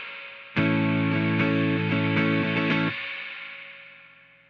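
An electric guitar plays a sustained chord through a Fender amp with the reverb turned all the way up, the strummed notes swelling into a wet, watery wash that rings out and decays slowly after the playing stops.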